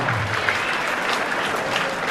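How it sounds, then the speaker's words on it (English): Steady crowd applause fills a Muay Thai fight event in Geelong, a dense wash of clapping held at even loudness throughout with no break. "please join me in handing a last round of applause"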